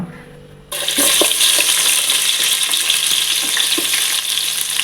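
Onions dropped into hot oil for a chicken biryani start a loud, steady sizzle that fills the space, after a brief quieter moment with a few faint clinks before it.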